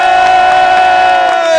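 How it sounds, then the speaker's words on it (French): A crowd cheers at the Grand Cross de Craon motocross race in France, a steady roar of voices over a sustained tonal drone that holds for the whole short stretch. "sous les applaudissements du public"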